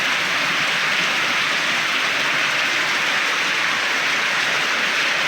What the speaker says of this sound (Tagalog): So guys, tingnan nyo guys, ang lakas ng ulan dito sa amin guys.